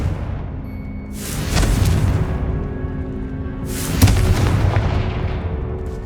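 A spell explosion in Hogwarts Legacy erupts as two deep, loud booms a few seconds apart, each with a rumbling tail over a steady low game ambience.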